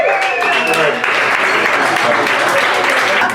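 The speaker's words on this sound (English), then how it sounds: "you guys deserve a round of applause for that" A comedy club audience at an open mic claps in a dense, steady burst, loud and close, with a few voices and cheers mixed into the applause.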